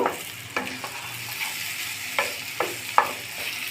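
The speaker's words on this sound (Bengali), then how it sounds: "কুমড়ো আলুর সাথে মশলাটা মিশিয়ে নিয়েছি, এখন কিছুক্ষণ নেড়ে চেড়ে নিব।" Pumpkin and potato with spices sizzle steadily in a frying pan while a spoon stirs and scrapes against the metal in a few distinct strokes, near and moderately loud.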